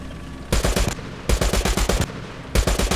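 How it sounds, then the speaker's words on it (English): 30 cal machine gun in War Thunder firing three loud, close bursts of rapid shots separated by short pauses, with no talk. "That is definitely a new 30 cal sound."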